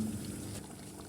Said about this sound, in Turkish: Tabii ki kaynar su ilavesi yapıyorum.